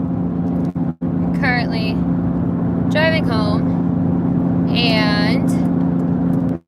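A car being driven home produces steady interior road noise, a low, even engine and tyre drone throughout, with a person talking close to the microphone above it.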